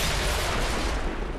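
Gunfire in the XCOM 2 video game, a dense burst of loud, close shots that fills the whole short moment with no talk over it.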